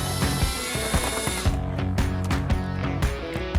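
Power tool backing out the fender liner screws on a 2023-2026 Ford F-250, a loud continuous motor whine running the whole time, with steady buzzing pulses and short ratcheting bursts in the second half.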